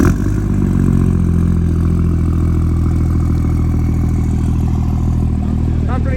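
A 4th gen Cummins diesel in a Megacab truck built to over 1000 hp runs steadily with a deep, loud, rumbling idle and slight clatter, holding close and constant without clear revs.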